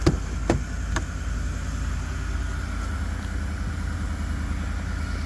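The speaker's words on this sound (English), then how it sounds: "Good clean idle, you can hear that there." A 2019 Ford F-150 Lariat pickup idling steadily, a low even engine rumble after a few brief knocks at the start, close and continuous with no talk.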